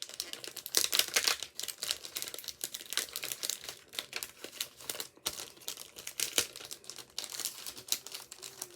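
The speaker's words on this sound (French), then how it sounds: "on met un petit papier cadeau" Gift wrapping paper crumpled and crinkled by hand in a steady run of close, crackling rustles with sharp bursts, alone without talk.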